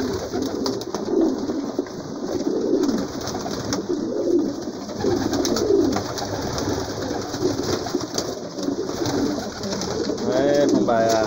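Pigeons coo continuously in a loft, a dense layered chorus of soft rolling calls at close range with steady overlapping rhythm throughout.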